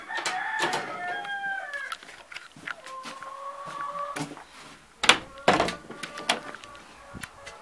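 A rooster perched on a wooden post crows repeatedly among farm poultry, its drawn-out calls ringing out close by, mixed with hen clucking and a few sharp bursts of nearby noise.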